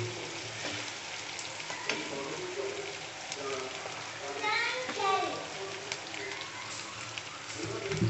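Ginger, garlic and onion frying in a pan with a steady, close sizzle and occasional stirring, while people talk over the cooking.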